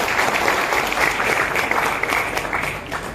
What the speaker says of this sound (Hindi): एक बार अपने लिए तालियां बजाएं ताकि पता चले कि आप लोग आए हैं।